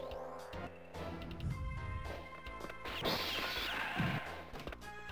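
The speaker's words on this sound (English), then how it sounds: "I do like that you can shoot holes in the glass." Gunfire shatters glass in the 1990 SNK video game The Super Spy, with repeated bright crashes and smacks over busy electronic game music and effects.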